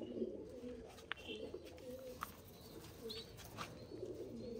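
Racing pigeons, including tournament birds and their young, coo in soft low rolling phrases at a loft. The calls are fairly quiet and overlapping, with a few faint clicks and no voices.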